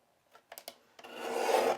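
Paper being trimmed for a marker card, with a few light taps followed by a short, soft rasping cut, quiet and close.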